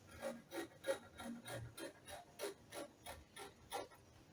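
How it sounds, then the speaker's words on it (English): Fabric for a dolman gown is cut along the back neckline with a steady rhythm of soft, evenly spaced snips, about three per second, quiet and close, with no talking. "So I'll cut out the back neckline first"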